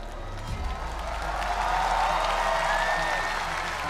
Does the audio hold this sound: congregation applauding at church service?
yes